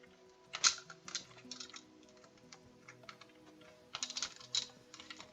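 Quiet, rapid clacking of a computer keyboard as a command is typed, in irregular bursts with short pauses.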